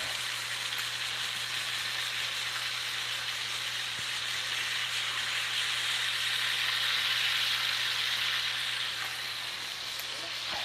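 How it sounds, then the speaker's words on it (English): A steak sizzles and fries steadily in a pan while cooking, a continuous bright crackling hiss that holds at an even level throughout with no talking over it. "You guys hear that sizzle, right?"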